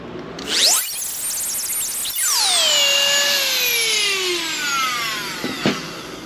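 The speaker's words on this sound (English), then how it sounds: "I'm going to grind this off and see what happens. So I've got my Dremel set up." A Dremel rotary tool whines up to a high pitch, briefly stops, then spins up again and grinds off a metal ring, its pitch sagging under load, loud and close with a couple of clicks near the end.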